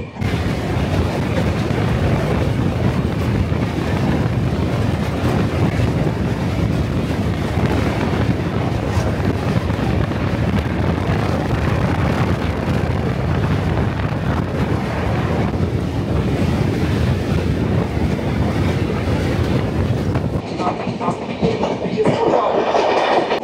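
The Kandari Express train rumbles steadily and loudly across a bridge over the Haldi river, with heavy wind buffeting the microphone, then the roar drops and thins near the end.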